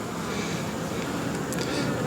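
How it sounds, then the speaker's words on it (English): Dense, steady buzzing of many honey bees at a double deep hive, close and continuous with a thick, even drone throughout. "Plenty of bees."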